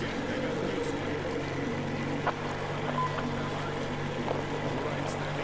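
A boat engine idles steadily in the Metro Exodus video game, a constant low drone and hum under occasional voices and faint clicks.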